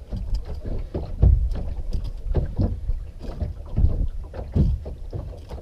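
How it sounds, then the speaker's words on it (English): Knife grating along the backbone of a whiting while filleting on a boat, a series of rough scraping strokes in irregular bursts, close, with wind noise buffeting the microphone. "You can hear your knife grating against the bones."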